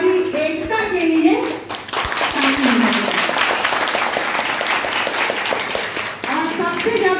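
Audience applause at a Swadeshi Jagran Manch gathering in Gonda marking Martyrs' Day, a steady crowd clapping that runs the full length with voices and talk mixed in over it.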